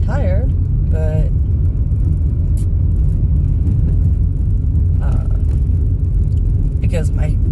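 A car driving on a road at 2 a.m., its engine and tyres making a steady loud low rumble throughout, with occasional tonal squeaks and short bursts of a voice over the road noise.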